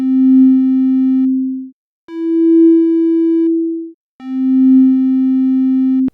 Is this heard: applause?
no